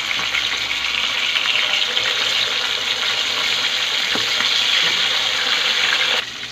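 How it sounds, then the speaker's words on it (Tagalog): Milkfish (bangus) fries in hot oil in a pan, giving a loud, steady crackling sizzle that runs without a break for several seconds and eases slightly at the very end. "Mainit na ating kawali. Lagyan natin itong ating bangus."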